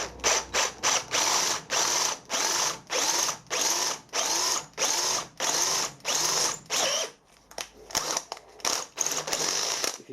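A power drill bores a hole for a thread tap in a steady series of loud, close whirring bursts with a ratcheting edge, each burst separated by short pauses as the trigger is squeezed and released.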